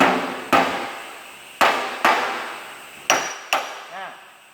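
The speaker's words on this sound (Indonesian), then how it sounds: "Kemudian bagian yang sini dipukul sedikit demi sedikit." Hammer blows against a dolly on an automotive body panel during straightening, six sharp metallic strikes spaced irregularly, loud and close, each ringing briefly before fading.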